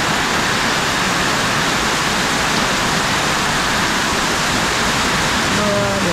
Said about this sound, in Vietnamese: Mưa lớn quá trời.